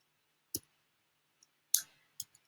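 Several sharp computer mouse clicks, isolated and fairly close, with one clearer pair near the middle and a couple of fainter ticks between them.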